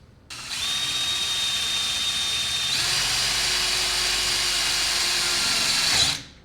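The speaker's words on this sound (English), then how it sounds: "So I just have to finish drilling this hole out. It was actually doing pretty good with the self-tapper." A power drill with a self-tapper bit runs in one continuous whine while finishing a hole during a jon boat trailer upgrade, the pitch shifting partway through as the bit bites, then spinning down at the end.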